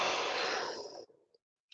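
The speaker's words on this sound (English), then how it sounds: "I breathe in through the nose, out through the mouth" A long, steady breath pushed out through the mouth during a hamstring stretching session, a broad airy hiss that fades away near the end, followed by a short quiet pause.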